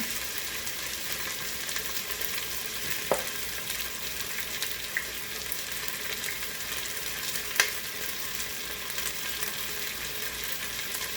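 Chicken browning in a Pampered Chef Quick Cooker before pressure cooking, a steady close sizzle and fry throughout with a couple of faint clinks, no talking.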